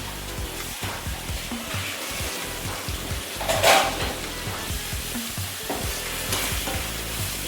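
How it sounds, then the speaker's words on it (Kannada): A green chili, ginger, garlic, coriander and mint paste fries in a pan for chicken biryani, giving a loud steady sizzle with rhythmic scraping stirs and one brief louder hiss burst. "ನೆಕ್ಸ್ಟು ಫ್ರೈ ಮಾಡ್ಕೊಳ್ಳೋಣ ನೀಟಾಗಿ"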